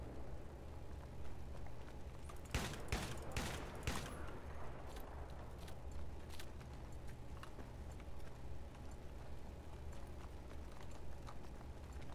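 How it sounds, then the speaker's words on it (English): Distant battlefield thumps in Battlefield 3, with a tight cluster of four loud mortar-like impacts early on, then fainter scattered shots over a steady low rumble. "Mortar."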